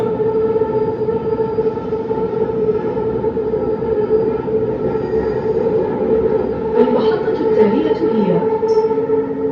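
A steady rumbling ride inside a Riyadh metro train near Qasr Al Hokm station, Saudi Arabia, with a sustained electric whine, and a brief wavering tone near the end.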